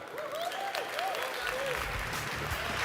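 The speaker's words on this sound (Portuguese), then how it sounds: "Uma salva de palmas para o André." Audience clapping at a business talk on CRM and lead generation, a steady dense patter filling the room with faint voices mixed in.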